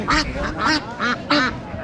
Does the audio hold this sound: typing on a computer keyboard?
no